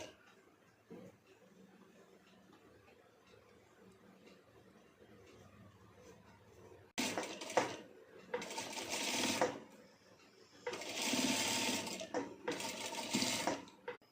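Sewing machine stitching fabric ruffles, silent at first, then two loud bursts of rapid running stitches separated by a short pause, close to the listener.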